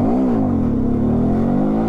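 A motorcycle engine held at high revs, a loud close droning whine that dips slightly then climbs and holds steady through the short burst, with no voices.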